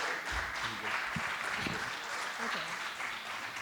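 Audience applause at a Black founders demo day, a faint, continuous wash of clapping with voices murmuring underneath.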